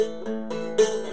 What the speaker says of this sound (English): do not hit the other strings, because if you do, they'll sound like this.